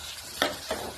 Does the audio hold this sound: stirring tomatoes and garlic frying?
yes